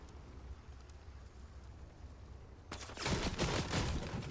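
Gunfire in the video game Fortnite, quiet game ambience suddenly broken by a loud rapid burst of shots continuing to the end.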